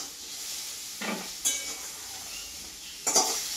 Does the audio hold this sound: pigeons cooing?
no